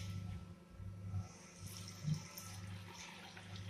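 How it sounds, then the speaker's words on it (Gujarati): Clean water poured into a bowl of washed toor dal, a soft, faint running and splashing of liquid for a few seconds, with no voices. "હવે આપણે આમાં ઉમેરીશું ચોખ્ખું પાણી."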